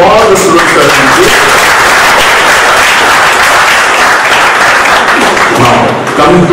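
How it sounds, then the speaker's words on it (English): A convocation audience in Mumbai applauds students, loud, dense clapping close to the microphone with voices and cheering mixed in throughout. "give a big applause to all the students that come here."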